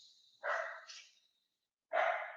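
A dog barking indoors at night, two short, close and fairly loud barks separated by a brief silence, the first drawn out with a rough tail.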